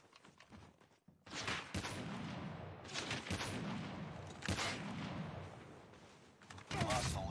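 Video game gunfire sounds in a 1v1 match, with rapid bursts and sustained volleys of shots from an AR-style weapon, loud and dense, with brief pauses between firefights.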